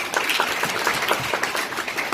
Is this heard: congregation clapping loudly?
yes